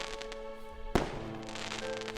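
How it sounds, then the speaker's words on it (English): A firework bursts in a visual-novel video game, one sudden loud bang followed by a crackling, fading tail over soft background music. "The loud sound of fireworks going off makes us both jump."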